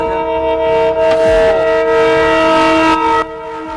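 A train on railroad tracks sounds a loud, sustained multi-tone horn close by. The horn holds steady for about three seconds, then cuts off, leaving a rumbling background.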